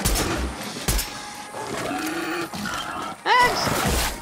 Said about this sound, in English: Pigs!